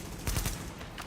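Gunfire in The Division video game, a short burst of shots striking metal railings, a few sharp close cracks clustered together then fading.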